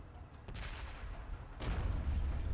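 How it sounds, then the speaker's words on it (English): Cannon fire in the video game ArcheAge, rough bursts of blasts and rumbling booms, the heaviest arriving in the second half, heard at moderate volume without talk. "up here you have the guys throwing bombs which you can kill with cannons here"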